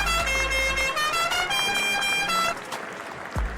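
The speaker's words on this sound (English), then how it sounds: "Let me hear the car horn." Car horn sound effect played on a live stream, a loud sustained honk for over two seconds that cuts off, followed by a fainter brief tail.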